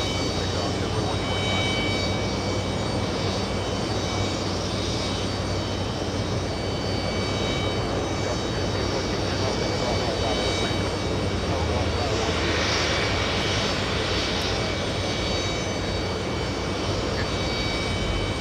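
A KLM jet airliner at JFK airport roars steadily and loudly throughout, a broad continuous engine rumble with no break, with voices faintly present underneath.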